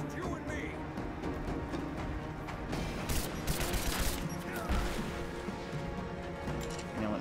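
Gunfire from the Rise of the Tomb Raider video game during a Trinity gunship boss battle, a dense run of bursts and crashes that stays loud throughout, with voices calling out over the shooting.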